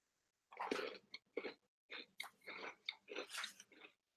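Close-up bites and chewing on a crunchy chocolate cookie from a US MRE ration, a series of crisp crunches in quick bursts with short pauses between them.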